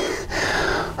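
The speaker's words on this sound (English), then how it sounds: "Can you hear that? Are you breathing? I'm definitely breathing." Heavy breathing after a kids' strength workout, a loud, close, continuous huffing breath with one brief break midway.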